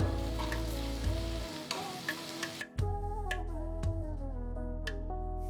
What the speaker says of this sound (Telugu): సో ఉల్లిపాయలని ఒక రెండు మూడు నిమిషాలు ఇట్లా సాటే చేసిన తర్వాత దీంట్లో ఇప్పుడు నేను నెక్స్ట్ జస్ట్ ఒక అర టీ స్పూన్ అల్లం వెల్లుల్లి పేస్ట్ వేస్తున్నాను